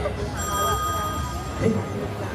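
A telephone rings with steady electronic bell tones under lively talk and laughter among several voices at a comedic stage performance, the ringing moderately loud and continuous.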